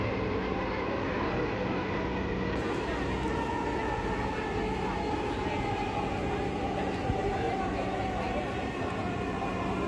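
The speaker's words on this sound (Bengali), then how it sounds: "ট্রেন চলছে" From inside a moving Dhaka metro rail train, a steady rumble and hum of wheels and motors runs continuously at close range, with a faint voice now and then.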